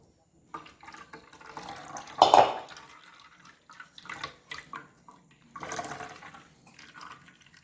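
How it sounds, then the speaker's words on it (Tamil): Freshly grated coconut is squeezed by hand to press out its milk, making wet squelching and trickling sounds in uneven bursts, close and moderately loud. "இது நம்ம பாலை புழிஞ்சு எடுத்துக்கணும்."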